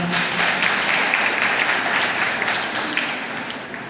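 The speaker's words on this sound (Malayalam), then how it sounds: "അപ്പൊ നമുക്ക് രണ്ടുപേർക്കും ഒരു ക്ലാപ്പ് കൊടുത്താലോ?" An audience claps for two guests at a family event honoring daughters and daughters-in-law, a full burst of applause that slowly tapers off, with no speech over it.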